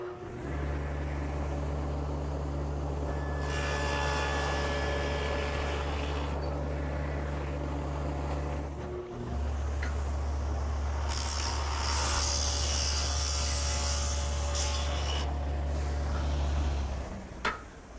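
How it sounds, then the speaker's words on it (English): A table saw fitted with a stacked dado head cutter runs with a loud, steady motor drone. It cuts a groove in a wooden side piece in two long passes, with a brief dip between them. "I've set up my dado head cutter in the table saw, a stacked dado head"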